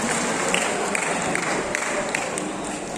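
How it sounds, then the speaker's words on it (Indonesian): Audience applause at a training session for polling station workers, a loud, dense clatter of many hands clapping close by, steady for the whole stretch with a few sharper claps standing out. "Tepuk tangan dulu."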